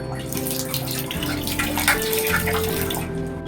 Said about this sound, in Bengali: দাঁড়াও, আমি এতে করেই তোমার গাছের গোড়াতে অনেক জল দিয়ে দেবো